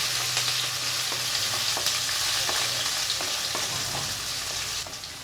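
Finely chopped green chillies sauté in hot oil with a steady, dense sizzle and crackle, punctuated by occasional spatula scrapes, close and continuous throughout.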